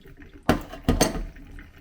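Water gushes from the neck of a Franke Eiger tap as its valve body cartridge is removed, in two short splashing bursts close by, with no talk.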